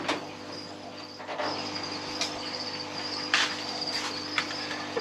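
Crickets chirp steadily in an indoor frog terrarium, a thin high trilling repeated in short pulses, close and clear over a faint constant hum, with no voices.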